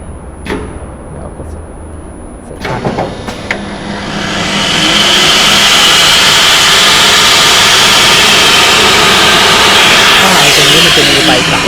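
A stamp hole punching machine runs in auto mode, punching holes in steel pipe: a few sharp clanks at first, then a loud, steady mechanical roar that builds and holds close by.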